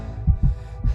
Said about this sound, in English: he could feel his heart pounding and his breath quickening.